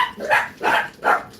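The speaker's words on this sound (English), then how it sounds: "I got crazy dogs in the background" Several dogs bark in the background, three broad barks spaced about half a second apart, fairly loud with no talk over them.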